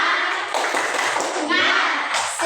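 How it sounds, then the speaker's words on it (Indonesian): A primary school class performs the Indonesian 'tepuk semangat' spirit clap, a rapid run of loud, close hand claps blending with children's voices calling out the rhythm. "Kita tepuk semangat satu kali nih."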